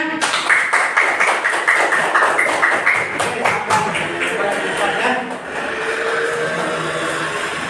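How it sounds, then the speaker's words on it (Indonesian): A classroom audience claps for a group that has just finished its presentation. The applause is dense, steady and loud for several seconds, with lighter rustling toward the end. "silakan ya, tepuk tangan ya"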